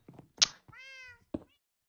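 A Minecraft cat gives one clear, drawn-out meow in the middle, set between short thumps and clicks of game activity. Nobody speaks.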